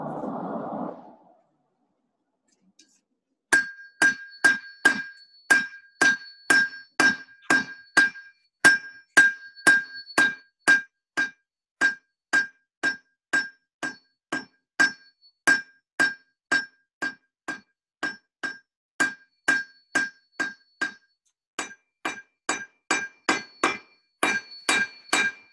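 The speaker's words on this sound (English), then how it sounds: "We'll forge this out." A blacksmith forges metal at a ranch demonstration, hammer blows ringing out in a long, steady series of sharp metallic strikes, loud and close, with brief pauses between runs; a short burst of sound comes before the hammering starts.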